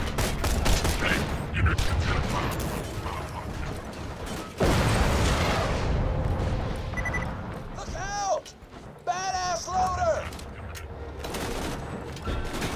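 Gun firing in Borderlands 2 among robot mechs, dense bursts of shots early on, then a heavy blast, with someone talking over the action and electronic game effects near the end.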